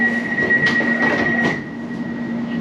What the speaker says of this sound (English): We're on board the Class 710 Adventurers.